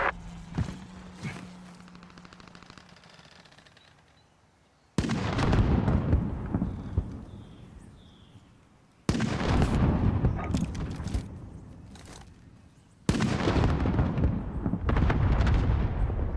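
Artillery strikes slam down in a video game, three loud broadband booms landing several seconds apart, each hitting hard and then rolling off into a long fading rumble, preceded by quieter distant thuds.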